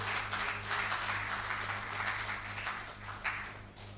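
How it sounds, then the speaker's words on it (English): A conference hall audience at an engineering conference closing gives dense, steady applause, the clapping fading slightly toward the end over a low background hum. "Let's clap for them again."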